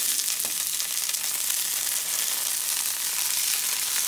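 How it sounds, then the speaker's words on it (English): Garlic sautés in hot olive oil in a pan, an even, bright, continuous sizzle held at steady loudness throughout, close by with no talk. "I'm gonna go ahead and saute it until it's tender"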